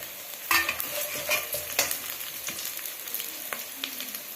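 Peanuts added to hot oil with green chillies and stirred, giving a bright crackling sizzle with a sharp burst as they go in and scraping stirs after it, close and fairly loud.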